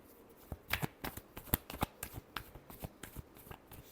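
Tarot cards are shuffled by hand in a close, quiet series of quick riffling snaps and soft card slaps in an uneven rhythm.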